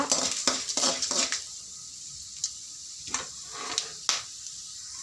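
Spices, urad dal and chana dal being stirred in a hot pan: a few quick metallic scrapes and clinks at first, then sparse light taps over a faint sizzle.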